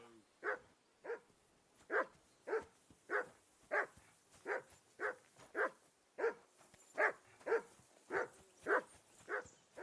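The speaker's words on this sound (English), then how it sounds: "Jesus, Henry, that barking's driving me nuts. Can you get your dog to shut its beak" A dog in a medieval video game barks repeatedly at an even, steady pace, roughly fifteen evenly spaced barks, moderately loud against a quiet background.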